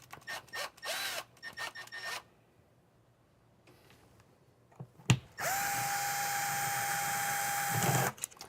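A power drill buzzes in several short bursts, then after a pause runs in one long, steady, high whine for a few seconds before stopping.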